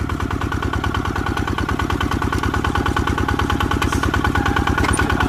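A vehicle engine restarted with the ignition key runs at a steady idle, close and loud, with an even, rapid chugging pulse that holds for over five seconds without talk.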